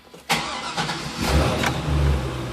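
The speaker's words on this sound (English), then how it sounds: "if I put the switch back on, the car is ready to be started again" A Corvette C5 Z06 V8 cranks and fires up after a kill switch install, the starter whine giving way to a loud, steady idle rumble close by, with no talking.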